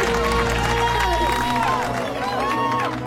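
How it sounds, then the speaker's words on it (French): An audience at a couples ballet dance contest applauds loudly, with steady crowd clapping and cheering voices blending into a lively hubbub. "Le juge a commencé par une danse gracieuse et le public a applaudi bruyamment."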